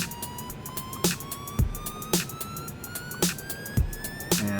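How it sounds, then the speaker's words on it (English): A running FS Mad Max RC car gives off a squeaking, squealing noise like a slipping slipper clutch: a rising whine with sharp, regularly repeating squeals about once a second, alone and fairly close. "I got some squeaking and squealing and stuff, kind of like a slipper."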